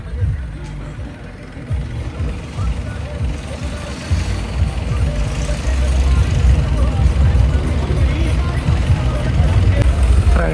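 Steady low rumble of an idling tractor, growing slightly louder partway through, with voices talking over it.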